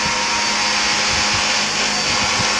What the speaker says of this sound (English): I just pause it because the vacuum cleaner.